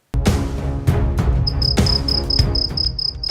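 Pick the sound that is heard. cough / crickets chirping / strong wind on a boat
crickets chirping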